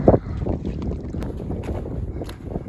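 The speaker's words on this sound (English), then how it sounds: "But the wind picked up." Wind buffets the microphone above the tree line on a mountain trail at over 5,000 feet, a close, continuous rushing roar with uneven gusts.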